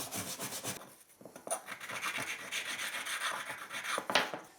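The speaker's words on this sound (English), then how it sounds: "Now I'm gonna get rid of the surface All-Set with a damp sponge, a little bristly brush, and a rag." Damp sponge and small bristly brush scrub grout haze off tile on an old house pantry floor, close rapid scrubbing and rasping strokes in uneven bursts with brief pauses.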